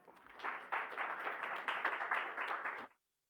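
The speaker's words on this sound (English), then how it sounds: "Please give him a round of applause." Applause from an audience at a report launch event, a few seconds of steady clapping that starts quickly, holds at moderate volume and cuts off abruptly.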